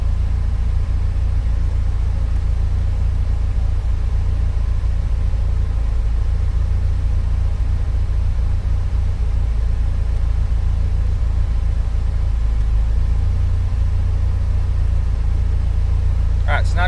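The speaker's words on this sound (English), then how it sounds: "now I've got it pretty close to the engine noise that I'm seeing during that pull" Built 2.5-litre Subaru Impreza Bugeye engine running steadily under load, a loud continuous low rumble throughout with a brief sharper noise at the very end.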